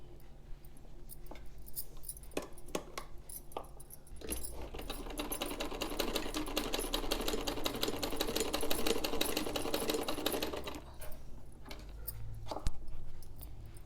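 A sewing machine stitches fabric strips together for a baby balloon top, running in a steady dense whirring burst through the middle of the clip with shorter stitching runs and clicks before and after, close and alone.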